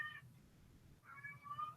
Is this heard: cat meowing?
yes